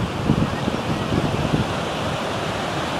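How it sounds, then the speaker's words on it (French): Ocean waves surging into a small rock pool at the north end of the beach at Étretat, a steady rushing wash of water with wind noise over the microphone. "là les vagues rentrent dans le petit bassin"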